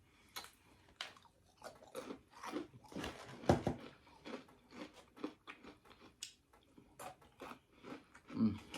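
Close, crunchy chewing of Popeyes fried chicken with crisp bites and wet mouth sounds, irregular and continuous, with faint rustling in between.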